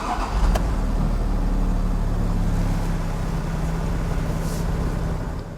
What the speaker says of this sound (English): Let's turn on the ignition and explore some of the controls.